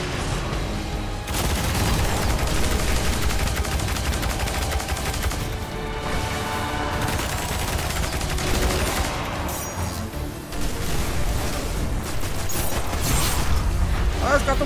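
Dense, loud machine-gun bursts run almost continuously in the game Destiny: Rise of Iron, with booms and mechanical clatter layered over a steady game-like din, while a voice talks throughout.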